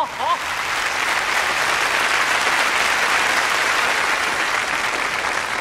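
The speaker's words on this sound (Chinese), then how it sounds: "掌声有请" An audience at a university freshman ceremony applauds a student representative, with loud, sustained clapping filling the whole stretch at an even intensity.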